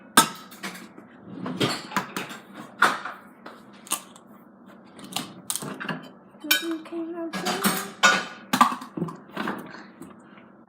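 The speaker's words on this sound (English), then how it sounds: "just crack one egg and make sure that you take all the tiny little shells out" A cold egg cracked into a bowl and beaten while making bread, heard as irregular clinks and taps of a utensil against the bowl, sometimes rapid, with occasional soft speech in the background.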